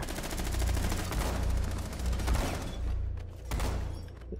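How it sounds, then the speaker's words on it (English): Shotgun blasts at close range in the tactical shooter Rainbow Six Siege: rapid, loud, booming reports follow one another almost continuously, then thin into a few spaced final shots. "That shotgun's so much fun at close range."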